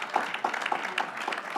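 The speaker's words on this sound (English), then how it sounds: "give him a round of applause." An audience claps for a 91st birthday celebration of Dr. Otis Moss Jr. at a community event, a brief burst of scattered hand claps filling the room with no talking.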